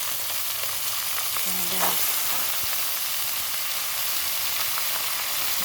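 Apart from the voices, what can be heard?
lumayagan added to pan, frying and sizzling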